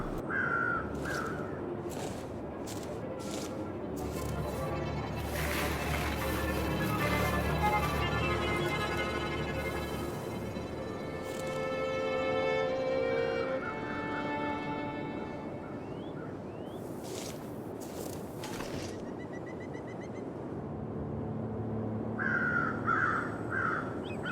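Ravens in the survival game The Long Dark give repeated harsh caws over a steady windy outdoor ambience, the calls scattered and fairly distant, with some sharp clicks and thuds in between.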